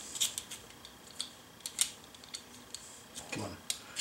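Vegetables being peeled by hand to strip off the skin, heard as quiet, close, crisp scraping strokes that come in an irregular rhythm.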